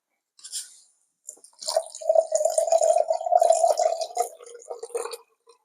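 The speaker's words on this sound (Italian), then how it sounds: "dobbiamo aggiungere 320 grammi di acqua tiepida" Lukewarm water is poured into a container to make a fertilizer solution for black oxidizing. Close, bubbling splashes start and stop, with a few short drips around a steadier middle stretch.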